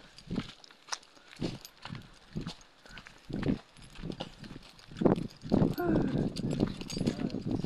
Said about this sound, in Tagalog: Kabayo pala.